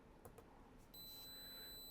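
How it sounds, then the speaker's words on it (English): A Sharp PC-1403 pocket computer's built-in buzzer gives two short chirps, then a steady high-pitched tone that holds to the end over a faint background hiss. "The noise you're hearing, again, it's the buzzer that's built into the PC-1403"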